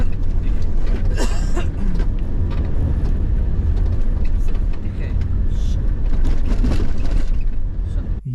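A car drives around a closed railway crossing barrier, with a steady, loud engine and road rumble running throughout and a few brief higher mechanical squeaks and clanks along the way.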